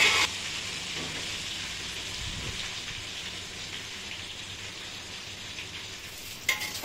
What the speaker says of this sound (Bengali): দেখুন আমার আলুগুলো লাল লাল করে ভাজা হয়ে গেছে